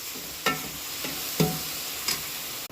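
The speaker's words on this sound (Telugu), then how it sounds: "ఇలా ఫ్రై అయిన తర్వాత ఇవన్నీ ఒకేసారి వేసేసేయాలి. వేసి బాగా గట్టితో తిప్పాలి." Chicken for samosa filling stirred in a frying pan: a steady sizzle of hot oil runs throughout, with about four distinct scrapes of the spoon against the pan, close and fairly loud, and no one talking.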